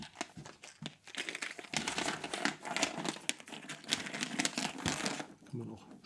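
Game balls for the board game Time Capsules are shuffled, giving a busy rattling, crinkling clatter that runs for several seconds while people talk over it.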